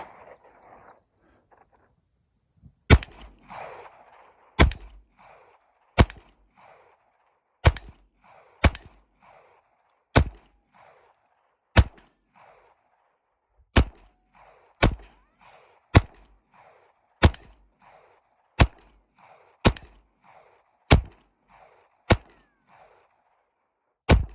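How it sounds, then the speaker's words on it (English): KelTec CP33 pistol fired one-handed at an outdoor range: a steady string of about fifteen sharp, loud reports spaced a second or so apart, each followed by a brief decaying echo, with no talking. "So for this test, I'll shoot one-handed"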